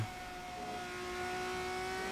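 Onboard engine drone of a single-seater race car in a sim racing game at a Mexico Grand Prix league race, a steady quiet tone with faint harmonic lines held throughout.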